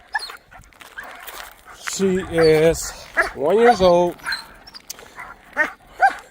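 A one-year-old Doberman pinscher named Cali gives close, high whimpering whines and yips in several short bursts, mixed in with someone talking.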